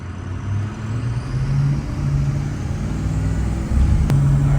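Ford 6.0 Powerstroke diesel truck pulling on the road, a close, steady engine drone building as it accelerates, with a brief sharp hiss near the end.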